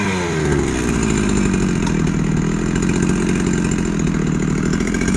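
A repaired Husqvarna chainsaw engine idles steadily, a close, even buzzing putter that holds constant throughout with no talk.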